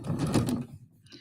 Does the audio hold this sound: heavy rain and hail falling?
no